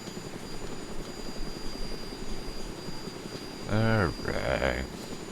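Helicopter flying in the video game DayZ, a steady rotor and engine drone with a high turbine whine. Near the end, two short swooping tones cut in over it.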